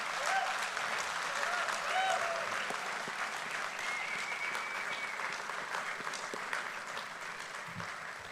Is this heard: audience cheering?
yes